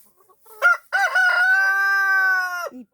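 A rooster crows in the morning, close and loud: a short lead-in note, then one long sustained cock-a-doodle-doo that falls away at the end, with soft clucks before it.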